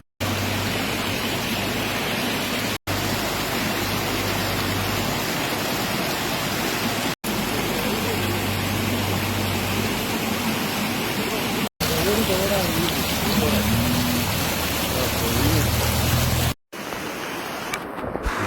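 Heavy rain roars steadily and loudly, broken by a few abrupt cuts, with a faint voice briefly audible beneath the downpour.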